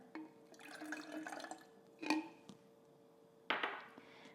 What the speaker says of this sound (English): And then my red wine vinegar.